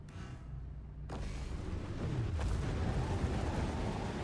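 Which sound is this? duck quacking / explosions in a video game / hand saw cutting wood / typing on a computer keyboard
explosions in a video game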